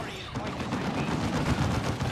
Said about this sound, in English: Shotgun blast is what they use their energy for.